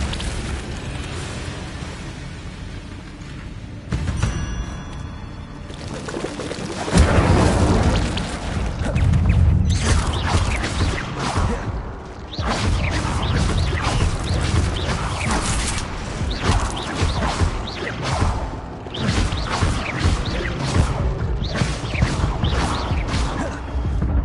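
Incendio fire spell blasts in Hogwarts Legacy, a run of loud booming bursts and fiery whooshes layered over steady game ambience, with heavier impacts clustering after the opening seconds.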